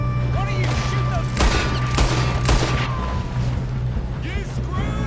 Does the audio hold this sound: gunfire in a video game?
yes